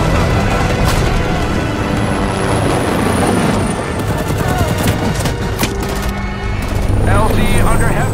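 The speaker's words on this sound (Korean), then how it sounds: "그로닝게맘에서는 그들을 구출하기 위해 헬기를 출격시켰고" A military helicopter lifts off for a rescue amid a war-film battle, rotor thump and engine whine churning beneath rolling bursts of gunfire and booms, with a high whistle crossing overhead and voices talking over parts of it.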